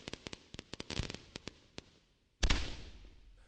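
A Roman candle firework goes off in a quick, uneven series of sharp, fairly faint pops, then one louder burst that trails off in a fading crackle.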